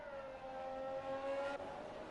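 An F1 2021 video game race car warms its tyres at the Emilia Romagna circuit, giving a steady, moderately distant engine drone with a sustained whine and no voices.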